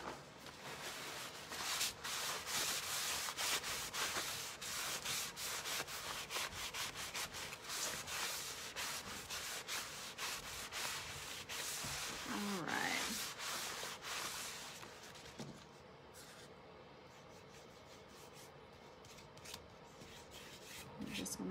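Paper towels rub steadily over beads and twine on a wooden door hanger while staining, a continuous dry scuffing that runs loud and close for most of the time, then eases to a softer wipe near the end.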